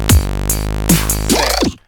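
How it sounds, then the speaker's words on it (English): A stock preset on the Serum software synthesizer sounds a few bright, buzzy synth notes with a sustained low tone under them, ending in a short swept flourish before cutting off, with no talk. "So I got a stock preset right now."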